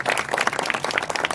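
A crowd claps at an election-boycott gathering in Atariya over the demand for a college, with dense, steady applause that runs through the whole short moment and has no voices above it.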